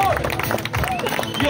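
Crowd clapping and cheering for a runner called to the podium after taking third place in a 14 km race at the Ocalony Legion run in Bieniszew, steady applause throughout with voices over it.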